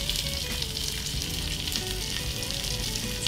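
Garlic sizzling steadily in hot oil in a pot as the aromatic base for a Vietnamese pho broth, a dense continuous frying hiss with no talk.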